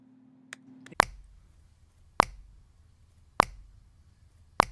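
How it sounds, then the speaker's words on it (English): Four crisp, close hand claps land at a steady, evenly spaced pulse with quiet pauses between them and no talking. "when we're clapping constant eighth notes, we should clap on every single number and on every single and"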